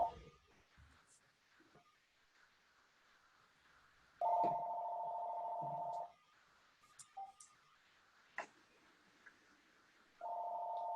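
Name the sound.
house phone ringing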